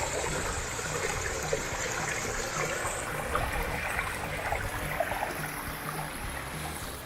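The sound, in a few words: water flowing in a man-made stream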